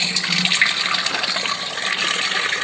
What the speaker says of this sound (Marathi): इथं पाणी भरतोय